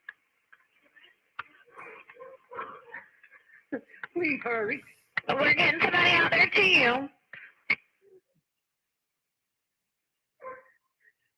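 Dogs barking in the background of a played 911 call recording, faint and telephone-muffled, with a few scattered barks under a caller and a dispatcher talking over the line.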